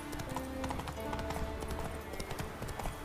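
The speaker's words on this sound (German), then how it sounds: "dann mal ab aufs Pferdchen" Horse hooves clip-clop in a steady, quick rhythm in The Witcher 3 video game, moderately close, with a faint whinny and game background sounds underneath.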